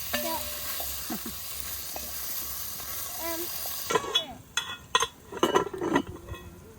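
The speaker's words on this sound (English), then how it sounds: "Brown the meat up a little bit more" Meat sizzling and browning in a pan during a camp veggie cook-up, a soft steady fry joined by clinking of a utensil scraping and stirring against the pan, growing busier toward the end.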